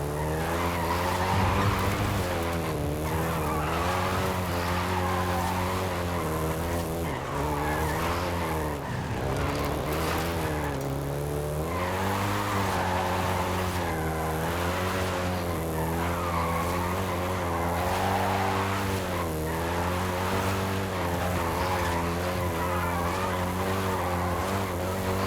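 A Volkswagen Golf GTI in the racing game Forza Horizon 5 drives with a loud, continuous engine drone and repeated long tire squeals as it skids, held steady and close for the whole stretch.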